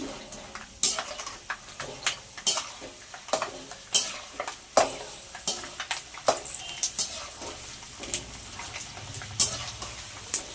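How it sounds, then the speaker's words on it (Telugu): Peanuts frying in hot oil for a spicy puffed-rice snack sizzle softly while a utensil stirs them, adding frequent close clinks and scrapes against the pan; no one speaks. "ఇప్పుడు మనం శనక్కాయ పప్పులు వేయించేసుకున్నాం"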